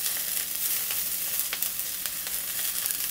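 Spicy garlic fish with spring onions sizzling in a pan with the heat off as it is tossed, a steady close hiss broken by brief crackling bursts.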